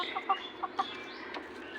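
A few Sonali chickens on a rooftop farm give soft, close clucks, four quick short calls followed by quieter rustling.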